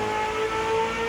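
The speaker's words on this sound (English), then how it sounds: "So in this very special sounding V8" Lexus LFA V8 sports car exhaust at high revs, a brief sustained tonal wail with strong steady harmonics, loud and close.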